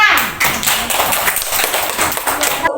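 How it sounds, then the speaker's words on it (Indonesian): Schoolchildren in a second-grade classroom clapping their hands together, a dense burst of close, loud claps mixed with voices, running for a few seconds before stopping abruptly. "Ya, tepuk tangan."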